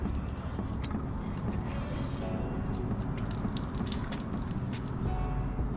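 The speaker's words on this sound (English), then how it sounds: "you're going to need a pair of needle nose pliers, or just regular pliers that can get in here, because this is how you're going to pull out the filter" Pliers grip and tug a filter out of a Xero X2 reverse osmosis unit, giving close plastic scrapes, creaks and small clicking rattles over a steady background hiss.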